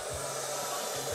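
Hair dryer blowing steadily at close range during a lemon-juice invisible-ink science experiment, a continuous airy whoosh with a faint low hum and no talk.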